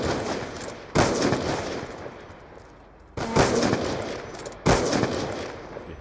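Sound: gunfire in a video game

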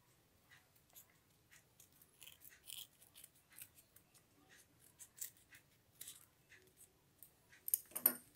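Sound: scissors cutting paper along a curved line for a craft flower

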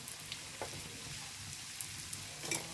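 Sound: kottappam frying in oil

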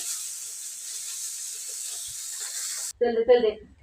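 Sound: fish frying in a pan

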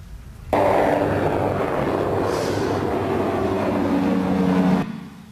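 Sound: military drone flying, from a manufacturer video

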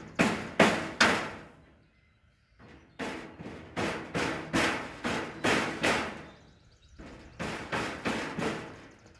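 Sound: hammering

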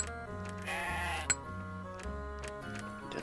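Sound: sheep bleating in video game Cultures

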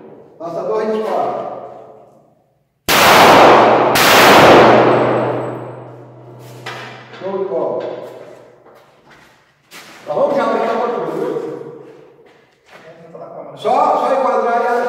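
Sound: pistol shots

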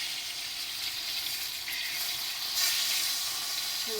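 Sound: peppers frying on a stove

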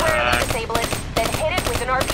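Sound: weapon fire in the video game Call of Duty: Black Ops III

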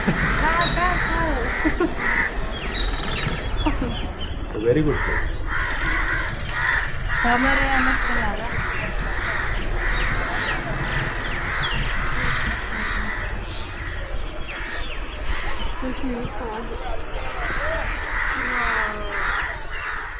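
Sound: crows cawing in the early morning

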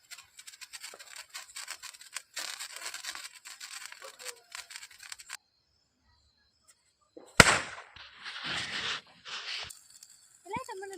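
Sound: firecrackers bursting

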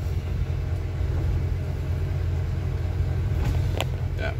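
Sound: riding inside a London double-decker bus

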